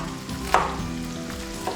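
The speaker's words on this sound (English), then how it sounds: "we're gonna let that bacon continue to cook down" Bacon frying in a pan gives a steady, close sizzle with soft crackles and one or two brief stirring knocks. No one speaks.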